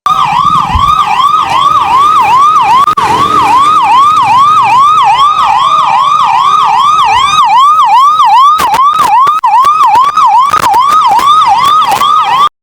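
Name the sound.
mobile medical unit ambulance sirens departing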